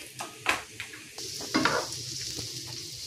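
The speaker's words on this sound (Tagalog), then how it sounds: "ilalagay na natin ang mushroom. At halo-haloin hanggang Maluto." Mushrooms for a creamy pasta fry in a pan while a utensil stirs them, making soft scraping and clinking strokes over a quiet, steady sizzle, heard up close.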